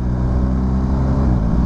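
A BMW R1250GS Adventure motorcycle engine under load while downshifting, a steady, close, loud mechanical drone with no pauses over a short stretch.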